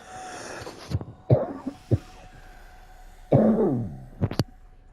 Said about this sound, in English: This cough is just aggravating the crap out of me.